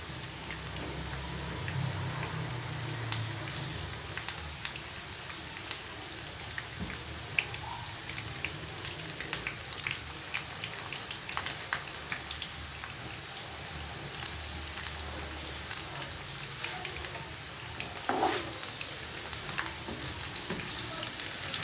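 Chicken manchurian fries in hot oil over a high flame, giving a steady close hiss and sizzle with scattered pops and spatters throughout, no voices.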